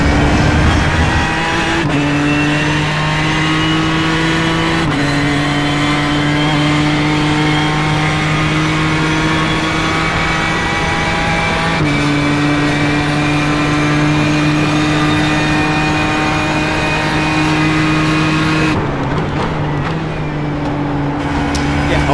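A race car engine in iRacing drones loudly and steadily close up, its pitch climbing and dropping through gear changes with brief lifts and throttle reapplication as it accelerates out of corners.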